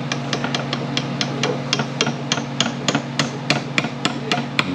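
Rapid, regular metallic taps from a hammer driving a snug-fitting part into a valve body bore of a Ford 4R70W transmission during a rebuild, a dozen or more sharp close strikes in quick succession.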